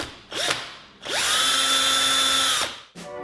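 A cordless screwdriver whirring against a phone screen: a brief spin-up, then a sustained high motor whine of about a second and a half that winds down, followed by another short burst, loud and close.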